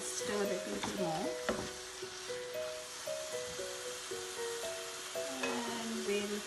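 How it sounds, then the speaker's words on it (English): Carrot halwa with sugar and cardamom being stirred in a pan, a steady soft sizzle broken by scraping spoon strokes against the metal, close and continuous with no talk. "So we just stir it a little more."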